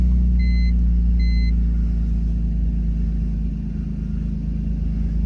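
A 27-year-old BMW car engine runs steadily after starting, with a loud, constant low rumble close by and faint high tones above it.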